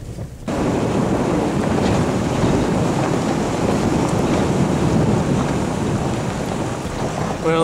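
A small waterfall pours at full force over a road, a steady, loud, broadband roar of rushing water. It starts abruptly and holds constant, with wind buffeting the microphone.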